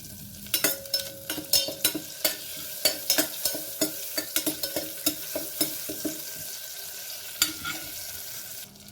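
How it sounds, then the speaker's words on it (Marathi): Butter sizzles in a pressure cooker with black pepper and bay leaf as a spoon stirs, giving sharp irregular metal scrapes and clicks over a soft frying hiss, fairly close. "एक चमचाभर बटर वितळते तोपर्यंत त्याच्यामध्ये मिरे घालते आहे त्याच्यानंतर हे घालूया तमालपत्र"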